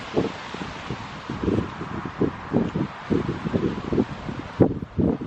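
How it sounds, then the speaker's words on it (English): Wind buffets and flaps the fabric of a hastily pitched tent with a loosely aligned outer fly, a steady close rushing with repeated soft gusting thumps and rustles throughout, no voices. "What isn't great is the wind hitting the tent."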